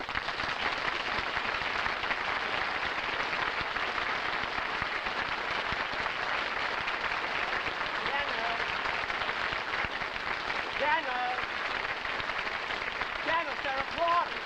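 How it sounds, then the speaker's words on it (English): Studio audience on a Jack Benny television show applauds for Dennis Day, a dense, steady roar of clapping that continues without pause, with a voice briefly heard under it near the end. "Dennis, they're applauding"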